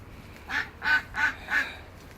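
A duck, apparently a female, quacks four times in an even rhythm at moderate distance, each call short and nasal, with no talk over it.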